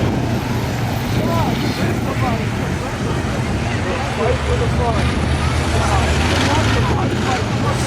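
School buses racing in a figure-8 race on a track give a dense, continuous roar of engines and road noise, loud and close, with crowd babble blended in.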